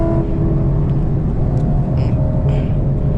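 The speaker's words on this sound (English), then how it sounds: "It's a lot of traffic on the back road today to Mexico." Steady low rumble of car traffic on a back road heading toward Mexico, a continuous close engine drone with faint tire whir and no clear individual pass-bys.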